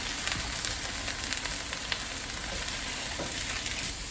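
Garlic fries in a pan with a steady, close, broadband sizzle and crackle that holds constant throughout, with faint stirring scrapes and no voices.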